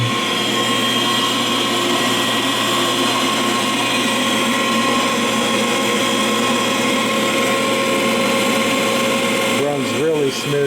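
A hydraulic pump driven by a 3600 RPM electric motor, fitted to a forging press built from a 25-ton log splitter, runs with a steady, loud hum and whine that holds for the whole stretch, shifting slightly near the end.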